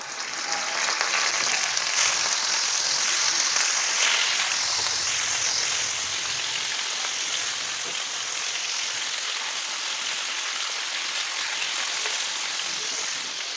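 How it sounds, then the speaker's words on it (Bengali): Katla fish pieces coated in lemon and salt fry lightly in hot oil, giving a steady, dense sizzle that holds evenly throughout without talk. "এবারে আমি এই তেলের মধ্যেই আমাদের লেবু এবং নুন দিয়ে মাখিয়ে রাখা মাছগুলোকে খুব হালকা করে ভেজে নেব।"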